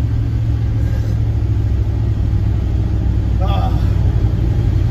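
A Dodge Caravan fitted with a turbocharged LS engine drives along with a loud, steady low engine rumble and road noise inside the cabin, with someone talking over it.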